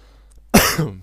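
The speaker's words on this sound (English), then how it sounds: "if I cough quite a lot, I got a bit of a scratchy throat right now" One sharp cough breaks a quiet moment, followed by a short rasping throat clear, close and loud.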